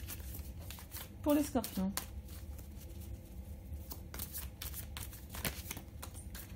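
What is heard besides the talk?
shuffling tarot cards for a reading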